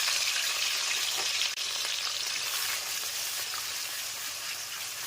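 Boiled onion paste frying in hot oil with whole spices and dried red chilli, a steady close sizzle with light stirring, no voices.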